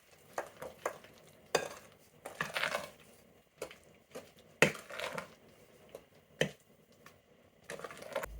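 A cake batter of eggs, sugar, vanilla extract, lemon peel, yogurt and salt is stirred together in a bowl, with close, irregular scraping and sloshing strokes in short bursts and no voices.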